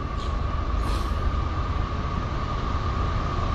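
A CSX freight train roars past at speed, a dense continuous rumble and rattle of wheels on track with a steady high whine above it.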